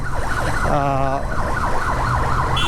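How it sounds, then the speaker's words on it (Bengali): An ambulance siren wails close by in road traffic, its rising and falling tone cycling steadily and loudly, with a brief stretch of rapid warbling and a short horn-like blast near the end, over constant engine rumble. "একটা অ্যাম্বুলেন্স আমার সামনে, অ্যাম্বুলেন্সটা এত বেশি হর্ন বাজাইতেছে"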